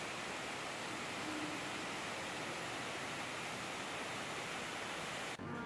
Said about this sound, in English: and a massive indoor waterfall.